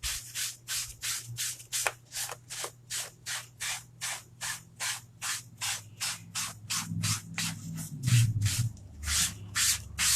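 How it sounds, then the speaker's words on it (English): Board eraser rubbing over a wet chalk design transfer on a pumpkin-themed surface, a rhythmic series of close scrubbing strokes, about two per second, steady and moderately loud with no voices. "I'm going to come in with my board eraser, and I'm just going to clean off the surface of that design transfer"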